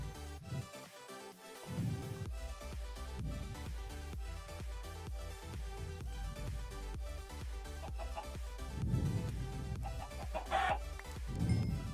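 Chickens cluck in Minecraft, heard as a few clucks over steady game music that runs throughout.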